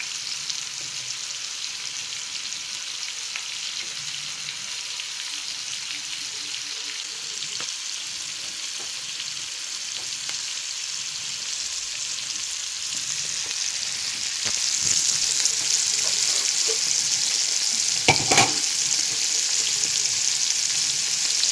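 Fish sizzles steadily in hot oil in a pan, with curry leaves on top, a continuous close frying hiss that swells louder midway as the fish is flipped, with a few sharp spatters and clinks.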